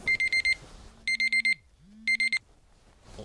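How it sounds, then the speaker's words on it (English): An alarm clock goes off with three bursts of rapid high electronic beeps, four beeps per burst in a steady repeating pattern, fairly clear indoors with a low hum rising and falling between bursts. "Whoops. That's my alarm."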